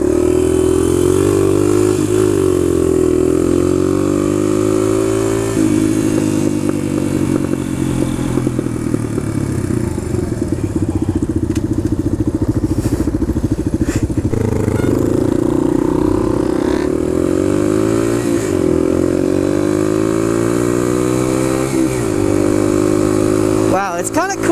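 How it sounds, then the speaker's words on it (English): A Suzuki DR-200 dual sport dirt bike is ridden, its single engine droning loud and close, rising and falling as it shifts gears, with wind rush over the top. "Wow, it's kind of cool riding a dirt bike."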